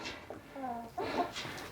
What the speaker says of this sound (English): These chickens are gonna eat it.